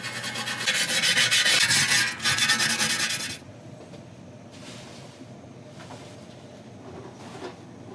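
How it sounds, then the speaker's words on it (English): A brass brush scrubs a steel transmission pan from a Volvo 240 AW70 gearbox: a loud, dense rasping scrub for about three seconds with a brief catch, then stopping, followed by quieter faint scraping strokes. "This is a brass brush, so it's not gonna damage the steel pan."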